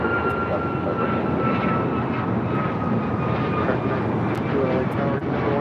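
Boeing 777 airliner taking off at LAX, a loud sustained broadband engine roar that stays steady throughout, heard from a distance across the airfield.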